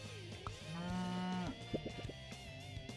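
A cow moos in the video game Super Auto Pets, one long drawn-out low call, clear and close, followed by short game clicks and blips with no talking.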